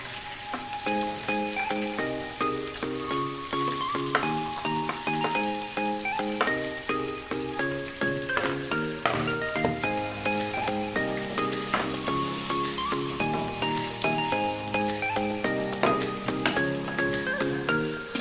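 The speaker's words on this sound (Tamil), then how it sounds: "வெங்காயம் நல்லா வதங்கட்டும்." Onions sautéing for a chicken gravy, a steady close sizzle of frying with occasional stirring, running continuously under background music with no talk.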